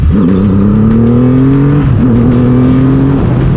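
Triumph Rocket 3 R 2500cc motorcycle accelerating hard at full throttle in fourth gear, a loud close engine roar rising steadily in pitch, briefly dipping, then climbing again under strong wind noise.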